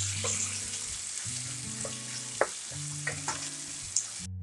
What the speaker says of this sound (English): Cook the tomatoes till it becomes soft.